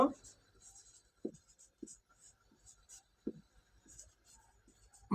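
Handwritten math solution being written, with soft scratchy pen or pencil strokes on paper: faint, intermittent marks with brief pauses, a few sharper taps among them, and no talk.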